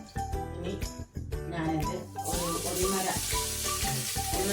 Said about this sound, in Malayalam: ഒരു ഒന്നര സ്പൂൺ വെളിച്ചെണ്ണ ഒഴിച്ചിട്ടുണ്ട് അത് കഴിഞ്ഞ് അതിൻ്റെ കൂടെ ഒരു ചെറിയ പട്ട മൂന്ന് ഏലക്ക